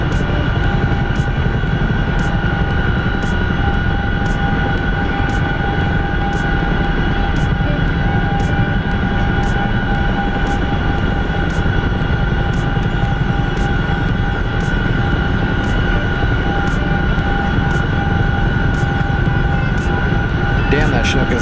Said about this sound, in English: Damn, that Chinook is loud.